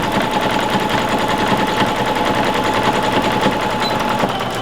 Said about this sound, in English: I'm going to take 2 stitches at a 45 degree, and then I'm going to turn it the rest of the way around and sew down to the edge.